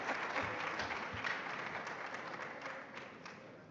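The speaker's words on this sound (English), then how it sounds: "Please, a round of applause for him." A large audience applauds steadily at a book launch ceremony marking the Sargrenti War anniversary and a royal silver jubilee, the dense clapping loud at first and tapering gradually.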